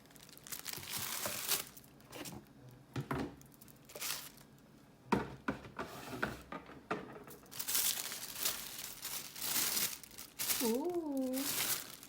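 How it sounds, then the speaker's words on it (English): Tissue paper wrapping around a pink Pandora jewelry box crinkles and rustles in irregular bursts as it is unwrapped, with a short vocal exclamation near the end. "It's wrapped in paper. So we're going to take it out."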